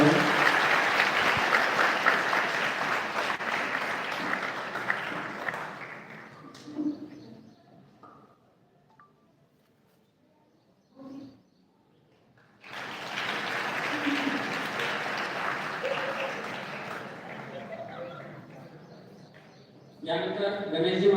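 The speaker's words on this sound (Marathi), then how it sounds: "सर्वांनी जोरदार टाळ्या वाजवून स्वागत करावे" An audience at a nursing college function gives hearty applause to welcome a guest, two long bursts of dense clapping separated by a quiet stretch with a few scattered claps, another round starting at the end.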